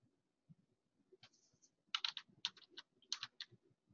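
Close, quiet keystrokes tap out a short command on a computer keyboard, with a few soft clicks first and then a quick burst of typing.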